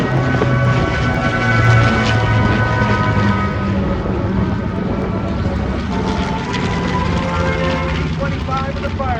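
A B-25 Mitchell bomber from the Canadian Warplane Heritage collection roars past at an airshow, its heavy piston engines a loud, steady drone with a slight swell near the start and a thick low rumble throughout.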